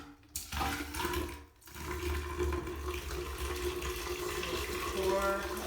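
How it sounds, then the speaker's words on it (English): Hot water pours steadily into a smelly shower drain with a low gurgling rush, continuous and fairly close, after a brief pause at the start. "So now I'm just pouring the hot water in."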